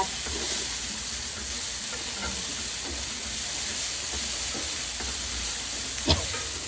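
Shredded carrot and papaya sauté in a pan with only a little oil, giving a steady low sizzle and hiss, with a single brief clink near the end.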